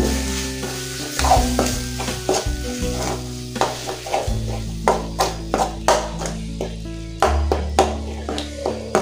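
Tomatoes being stirred and fried in a pan for chicken gravy, with a steady sizzle and repeated scraping stir strokes, close and fairly loud, no talking.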